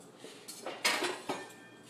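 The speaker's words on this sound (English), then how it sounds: "Give me 1 second while I change knives." A kitchen knife is swapped for another: several short metallic clinks and clatters of blades and handles being set down and picked up nearby, in a quiet room.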